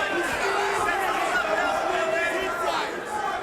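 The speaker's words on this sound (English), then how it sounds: "Crowd's starting to get into it here in the second round" Crowd at a kickboxing fight during the second round, a loud continuous roar of voices and shouting with chanting rising and falling, close and dense from start to finish.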